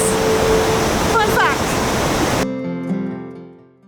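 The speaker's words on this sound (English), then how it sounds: "this waterfall is 100 feet taller than Niagara Falls" Broad steady roar of a tall waterfall in winter in Quebec, loud and constant, with brief voice-like sweeps partway through before it cuts to a quieter tonal passage.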